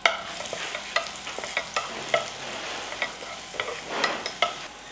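Finely chopped garlic fries in oil for a dry prawn curry, with a close, crackly sizzle and a string of spoon taps and scrapes against the pan.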